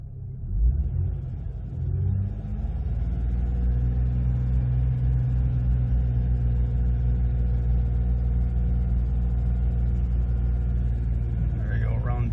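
Jeep Cherokee with a cracked cylinder head idling warm, a steady low rumbling drone heard close, with a slight revving swell near the start and a brief higher noise at the very end.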